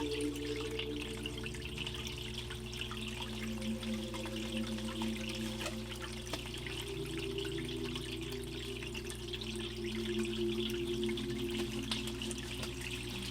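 Water runs continuously through a gold prospecting sluice loaded with Nome, Alaska dirt, a steady trickling, splashing flow over a constant low pump-like drone, moderately close and unbroken throughout.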